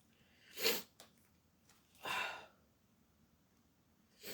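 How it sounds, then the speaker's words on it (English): Two sharp, breathy nasal sniffs close to the mic with a quieter one at the end, separated by near silence. "You have to excuse me sniffing."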